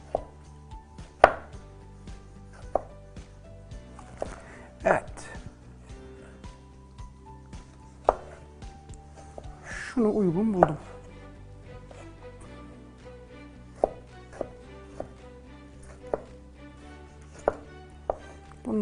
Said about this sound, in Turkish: Bence ufak küpler olarak doğrayayım.